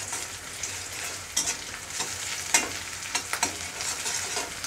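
Mutton with crushed garlic fries in a pot for a Bengali mutton curry. A steady sizzle runs throughout, broken by several sharp scraping strokes of a spoon stirring the meat.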